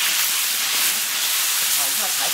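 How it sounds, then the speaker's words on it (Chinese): Chopped chili hitting hot oil with ginger in a wok, a steady loud hiss and sizzle filling the whole stretch, with faint crackle toward the end. "来，再加一点剁辣椒，"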